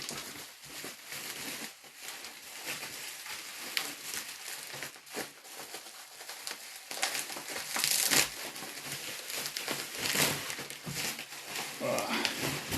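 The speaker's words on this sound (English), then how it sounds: "He's taped up pretty good, so I had to rip him" Taped bubble wrap packaging around a graded carded wrestling figure is ripped and crumpled, giving continuous crinkling, tearing and crushing noise close up for about thirteen seconds with no talk.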